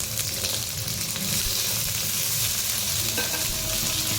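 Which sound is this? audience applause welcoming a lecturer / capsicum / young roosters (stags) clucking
capsicum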